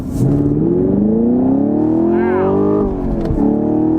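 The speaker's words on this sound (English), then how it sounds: "It's got that, just a very old school V8, has a little bit of crackling and popping going on there." A 2023 Chevy Camaro LT1 with its V8 in sport mode accelerates hard along a back road, the exhaust rising in a loud, steady drone before briefly easing off, then climbing again.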